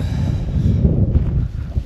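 Cold wind in Morocco's High Atlas mountains buffets the microphone in a steady low rumble, gusting slightly louder partway through, with no voices.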